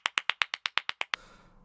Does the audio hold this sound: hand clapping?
yes